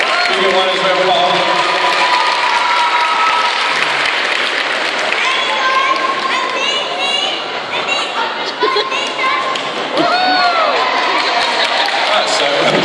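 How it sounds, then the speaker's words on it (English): Audience applause at a presentation evening, a full room clapping steadily and loudly throughout with some cheering and crowd chatter mixed in. "another round of applause for Lenny and Nora Shah"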